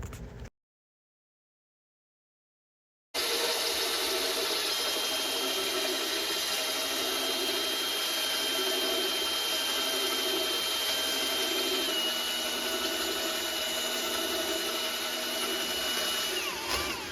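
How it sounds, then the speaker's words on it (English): A hand tool scrapes excess mortar from the joints of freshly laid bathroom tile, a steady, loud, harsh grinding scrape that starts abruptly after a short silence and continues alone. "this handy tool that scrapes the excess mortar out from the cracks"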